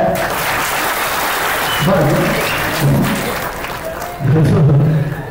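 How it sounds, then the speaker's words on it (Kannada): Loud applause breaks out from a crowd at a film title launch press meet, a dense steady clatter of clapping lasting several seconds, with voices calling and speaking over it. "ಜೋರ್ ಚಪ್ಪಾಳೆ."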